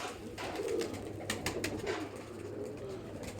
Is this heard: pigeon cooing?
yes